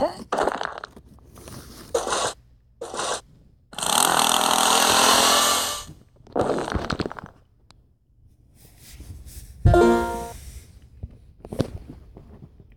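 Drill from the video game Escape The Prison, a loud harsh whirring burst heard alone for about two seconds, with shorter grinding bursts and clunks scattered before and after.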